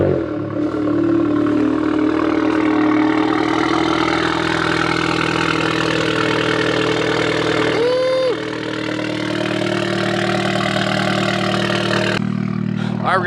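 A VW MK7 with an EQT Stage 2 tune, on winter tires in a snowstorm, settles after a cold start into a loud, steady close-up idle that holds level throughout, with a brief thin whine near the middle.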